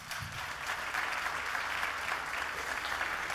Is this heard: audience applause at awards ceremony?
yes